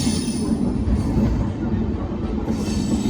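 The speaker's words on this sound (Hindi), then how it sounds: "बाकी हमारी ट्रेन इस ओर बढ़ चुकी है" Delhi Pathankot SF Express rolling along the tracks, a loud continuous rumble of wheels with clattering and faint squeal, close and steady throughout.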